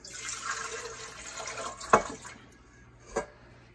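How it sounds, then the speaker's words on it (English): Water is poured from a container into a mixing bowl to start French bread dough, making a steady splashing fill for about two seconds, then a couple of sharper knocks as the pour ends. "I'm going to put in my water first"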